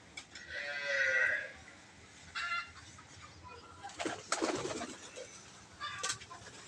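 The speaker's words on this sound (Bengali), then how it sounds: "অনেকটি কবুতর আছে" Pigeons, several kept together in a loft, coo in soft low bursts that come and go over a few seconds, with a flutter and a sharper call near the end and no voices.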